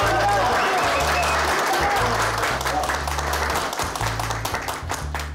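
Audience applause in a Turkish comedy sketch show, a broad sustained wash of clapping from a crowd, loud and continuous throughout, with a low rhythmic music bed underneath and some voices mixed in.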